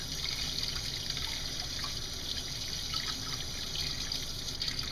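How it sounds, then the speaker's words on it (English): Tap water runs steadily into a sink while dentures are rinsed, a continuous close hiss and trickle with no pauses and no voices. "I'm going to rinse those dentures."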